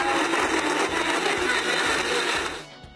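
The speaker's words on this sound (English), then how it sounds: "Let the blender go." A blender pureeing strawberries with sugar whirs loudly and steadily at high speed, churning with a rhythmic low chop, then winds down near the end.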